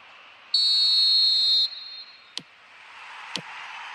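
A referee's whistle in the eFootball video game blows one sustained, piercing blast of about a second, followed by two sharp clicks over a faint crowd hum.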